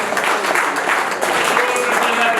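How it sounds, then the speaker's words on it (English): Dense, steady clapping from a crowd applauding the winners of a Daiwa pole fishing match, loud and continuous throughout, with some voices mixed in. "So big round of applause, guys."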